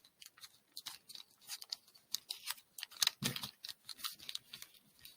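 Origami paper for a spider or tick model being pressed firmly and creased, a run of soft, quick crinkles and scrapes with a slightly fuller press near the middle, close and quiet, with no talk.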